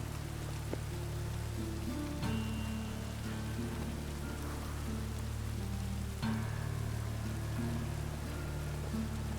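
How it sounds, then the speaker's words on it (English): Rain in The Witcher 3 video game hisses as a steady, even wash over a low ambient drone, with a couple of faint knocks and no voices. "And it's raining."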